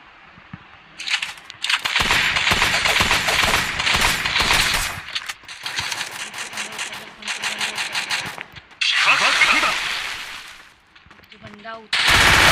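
Bursts of gunfire from a Free Fire shooter match, including a shotgun, crack out in loud, dense volleys lasting a few seconds each, with short pauses between them and a voice talking at moments.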